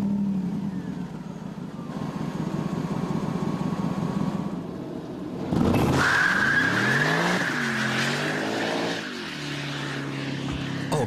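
A Mercedes SLR McLaren supercar with 626 horsepower drives hard, its engine droning steadily before the tires break into loud, squealing skids with rising and falling pitch, close by.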